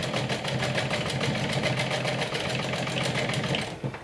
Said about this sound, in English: fold 1 more inch and stitch it down, and I will stitch it from this side